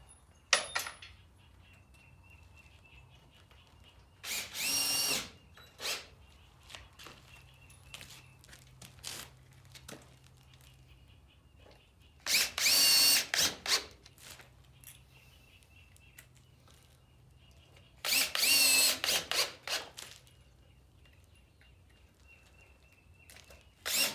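A power drill bores into stabilized compressed earth blocks and wood trim in three short, loud bursts, each lasting a second or two, separated by quiet stretches with faint handling noises.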